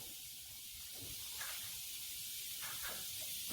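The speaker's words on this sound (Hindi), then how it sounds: "कुकर के ढक्कन को खोल देंगे।" Steam hisses steadily from a pressure cooker of sambar vegetables as the lid is opened after one whistle, a soft continuous hiss with no voices.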